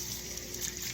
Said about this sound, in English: Let me rinse my